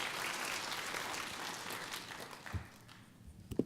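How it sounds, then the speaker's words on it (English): A crowd at a tech conference lightning talk applauds a presenter, with brisk close clapping that tapers off over a few seconds into scattered claps and a thump or two. "Another round of applause for Scott, come on."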